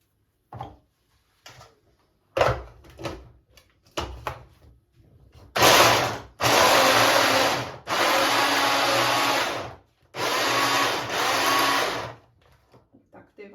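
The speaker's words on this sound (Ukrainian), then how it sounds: "Банани ми ламаємо на такі кусочки і перебиваємо блендером так само." A blender whirs loudly in several bursts of a second or two each, blending broken banana pieces, separated by short pauses, after some clattering and handling noises at the start.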